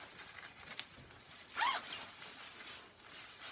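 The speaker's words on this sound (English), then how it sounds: "I noticed the zipper is a two-way zipper from top" A two-way zipper on a rain jacket is pulled in one quick, close zip, heard alone against a faint background hiss.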